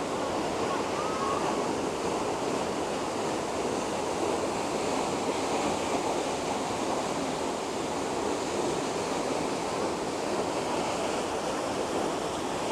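Athirapally waterfall in Kerala roaring as a steady, dense wash of falling water, loud and unbroken, with some wind buffeting the microphone.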